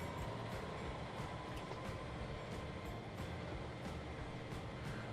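Steady, continuous rumble of a train running in the Transport Fever video game, with a faint regular clacking pulse over a dense low roar and no talking.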